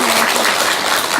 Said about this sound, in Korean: 우리 강영진 단장님께 따뜻한 박수 한번 주시기 바랍니다.